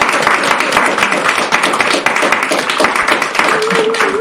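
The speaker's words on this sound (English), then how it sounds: "Can we get a round of applause for Amy?" A crowd at a permaculture design course gathering breaks into sustained, dense applause for Amy, loud and steady throughout, with a brief voice near the end.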